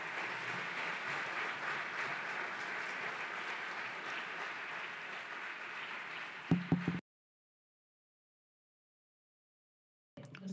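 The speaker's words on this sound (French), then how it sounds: "Merci beaucoup, on les applaudit." A forum audience at a plenary session in Barcelona applauds in a dense, steady wash of clapping for about seven seconds. A few louder thumps follow, then the room drops to silence before faint sound returns.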